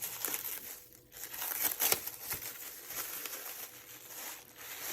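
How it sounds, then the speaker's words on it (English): Plastic wrapping crinkling and tearing as it is pulled off a Count Dooku neopixel lightsaber, quiet close rustles and crackles in irregular bursts, no voices. "You just take the plastic off."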